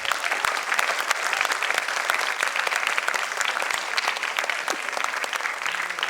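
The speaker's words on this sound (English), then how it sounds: "I think he deserves a thunderous applause" A quiz final audience in Mumbai breaks into thunderous applause for a young winner, dense and loud continuous clapping from a large crowd with no pause.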